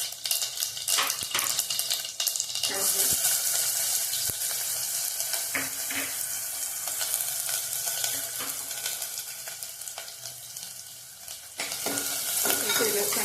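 Mustard seeds and cumin fry in two spoonfuls of hot oil for a Maharashtrian stuffed brinjal masala, giving a steady loud sizzle scattered with sharp crackles and pops throughout, with no talking.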